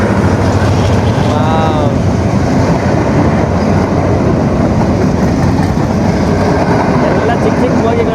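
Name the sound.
train passing between the sea and a river in Sri Lanka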